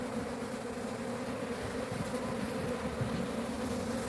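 Honey bees buzz around the frames of a hive during an inspection of older frames holding nectar and pollen. A soft, continuous drone of many insects holds steady and fairly faint throughout.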